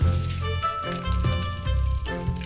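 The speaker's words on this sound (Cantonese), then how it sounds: "將個芋角擺放在漏網中，慢慢咁放入油中。" Taro puffs, lowered in a strainer into oil at about 160–170°C, sizzle in a steady dense crackle throughout, close and fairly loud, with a sustained tonal backing underneath.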